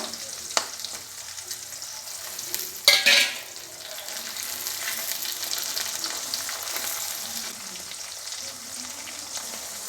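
Cut capsicum hits hot oil in a pan with a sharp sizzling burst, then frying crackles on steadily as the pieces are stirred, no voices over it.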